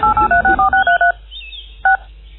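Telephone keypad tones: a quick run of about nine even DTMF beeps, loud and close, then a short pause and one final beep, with no voices.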